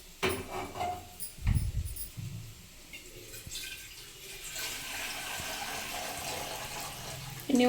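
Water pours steadily into a cooking pot for boiling Maggi noodles, a continuous close splashing stream that builds through the second half after a few clinks of the pot being handled.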